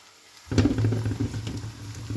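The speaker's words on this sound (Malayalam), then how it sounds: "ഇപ്പോൾ സവാള ഏകദേശം വഴന്ന് വന്നിട്ടുണ്ട്. കുറച്ചുകൂടെ ഒന്ന് വഴന്നിട്ട് നമുക്ക് പൊടികളിടാം." Onions sauté in a pan for a Kerala-style egg roast, with spice powders going in. A sudden hissing sizzle starts and carries on with light stirring scrapes, close and fairly loud, with no talking.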